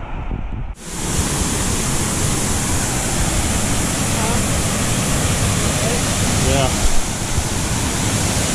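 Somerset Falls in Jamaica roars as a loud, steady rush of falling water that starts abruptly and continues unbroken, close to the listener, with a few voices faintly audible.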